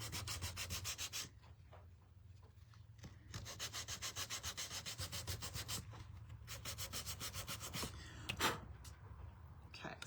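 Wooden deer antlers for a door hanger are hand-sanded to distress them, quick rhythmic rasping strokes in several close bursts with short pauses, faint overall, with no talk.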